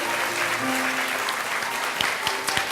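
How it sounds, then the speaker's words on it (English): Congregation applause fills a church sanctuary during a Sunday service, a continuous wash of clapping with a few sharper claps standing out, while a voice is faintly heard beneath. "Let's give them a round of applause."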